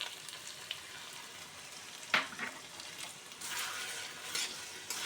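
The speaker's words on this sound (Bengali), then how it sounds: "এই মশলাটার পেস্টটা দিয়ে আমি কচুটা ভালো করে কষিয়ে নেব।" Taro being stirred and sautéed in a pan with a paste of ginger, turmeric, cumin and Kashmiri chili powder: soft sizzling with scraping spatula strokes, one sharp clink of utensil on pan midway, fairly quiet and close.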